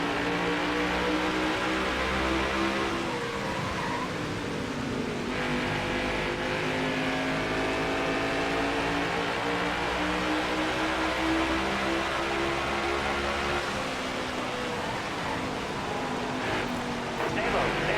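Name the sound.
race car engines accelerating in video game NASCAR Heat 5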